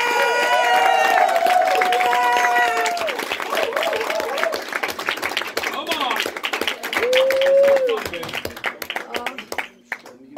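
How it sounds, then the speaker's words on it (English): A comedy open mic audience claps and cheers loudly and steadily, with whoops and shouts rising over the applause before it gradually thins out. "Clap for him."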